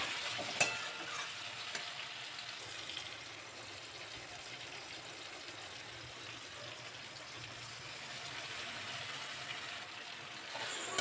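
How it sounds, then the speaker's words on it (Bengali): Ginger, garlic and onion spice paste frying in a pan with tomato and onion, a soft, steady sizzle with occasional faint stirring clicks, fairly quiet and continuous throughout. "তারপর মশলাটা ভালো করে কষিয়ে নেব।"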